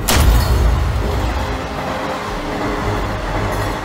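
A fast-moving train rushes past in daylight with a loud, continuous rumble and rattle of wheels on track, strongest at the start and easing slightly as it carries on.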